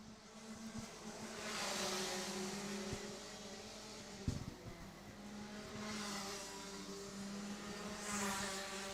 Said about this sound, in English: there's 15 karts on track